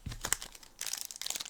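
A wrapped One Piece trading card pack being cut open, heard as short, faint crinkling and tearing of plastic wrapper in a few close bursts, with no voices.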